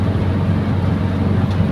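A carburetted Toyota Kijang Kapsul engine holds a steady drone close to 3000 RPM while cruising near 85 km/h, a continuous low hum with road and wind rush.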